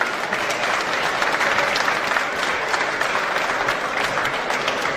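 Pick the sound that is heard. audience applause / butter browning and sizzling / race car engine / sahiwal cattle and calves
audience applause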